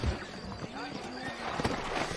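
Horse hooves clip-clop at a steady walking pace in Red Dead Redemption, with the horses saddled and waiting, set under continuous spoken dialogue and soft game ambience.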